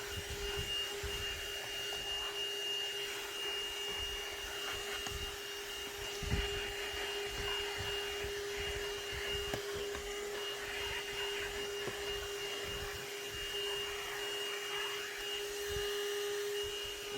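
A ThisWorx portable corded handheld car vacuum cleaner runs continuously with a steady motor whine and airflow hiss, fairly quiet, with small bumps as it sucks at car carpet and no talking.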